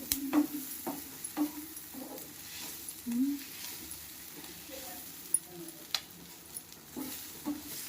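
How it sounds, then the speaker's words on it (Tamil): Curry leaves and mint sauté in a pan for curry leaf chutney: a low, soft sizzle runs under repeated scraping stirs, with occasional louder clatters of the spoon against the pan. "கருவேப்பிலையும் புதினாவும் நல்லா வதங்கணும்."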